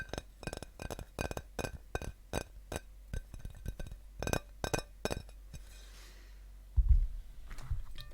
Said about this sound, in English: So I also have a glass plate today.